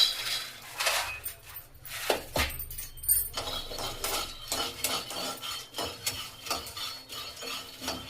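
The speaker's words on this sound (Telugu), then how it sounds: "ఇప్పుడు పల్లీలను వేయించుకుందాం. పల్లీలను కొద్దిగా వేయించుకుందాం." Peanuts are dry-roasted in a pan and stirred, making uneven bursts of rattling, clinking and scraping as the nuts and spoon knock against the metal, with only a faint sizzle underneath.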